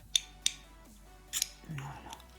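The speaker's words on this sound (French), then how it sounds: "je vous montre comment on la coupe" Scissors cutting a Nespresso coffee capsule to make earrings, giving a few sharp, close snips separated by pauses, with a brief voiced murmur near the end.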